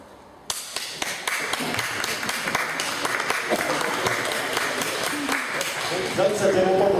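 An audience at a conference on digital technology bursting into applause, a dense sustained clatter of many hands clapping that starts suddenly and carries on steadily to the end, fairly loud.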